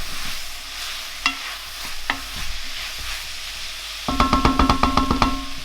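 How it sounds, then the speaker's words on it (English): Cumin and other ground spices fry in a hot pan for chilli con carne, a soft crackle punctuated by a few scrapes and stirs, then a louder burst of rhythmic stirring and sizzling near the end. "Get those spices frying."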